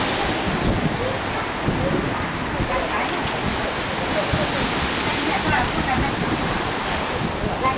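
Sea waves washing on the shore beside an old church in Greece, a steady loud rushing surf mixed with wind over the microphone, continuous throughout.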